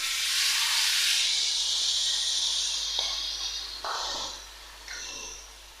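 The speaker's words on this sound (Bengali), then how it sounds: "পোস্তটাকে জল দিয়ে গুলিয়ে নিয়েছি, পোস্তটা দিয়ে দিচ্ছি" Poppy seed paste mixed with water hits a pan of frying potatoes and onion stalks, producing a loud, continuous hissing sizzle that tapers off in a few softer bursts.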